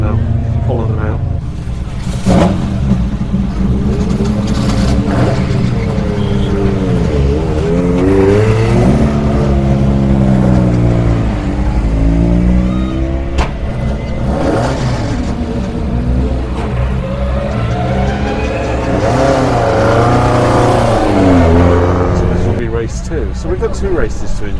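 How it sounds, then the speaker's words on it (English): Classic Ford Escort rally cars race at a rallycross circuit, engines droning and revving loudly and continuously as they pass, with someone talking over the noise. "Right, the classic cars are coming out."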